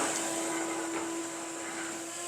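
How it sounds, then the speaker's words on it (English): A vacuum cleaner runs over an old pine floor being restored, giving a steady, close motor hum and airy whine that holds the same level from start to finish. "Vacuum it off."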